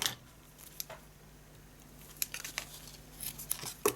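Scissors trim a length off a satin ribbon at close range, giving several quiet, crisp snips and clicks, with a cluster near the end, over faint background hum.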